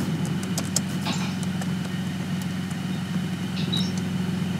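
A car in the Roblox game Redwood Prison drives along with a low, steady engine drone, fairly quiet, with a few faint clicks and game effects scattered over it.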